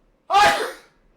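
One sharp, close sneeze bursts out abruptly and fades within about half a second, alone in an otherwise quiet room.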